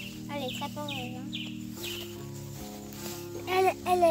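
Small ornamental hens cluck and chatter up close in a backyard coop, with repeated short calls and a few louder squawks near the end, while people talk nearby.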